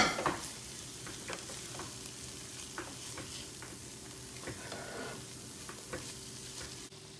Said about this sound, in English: I'm gonna add some fresh spring onions, and then I'm gonna stir it all in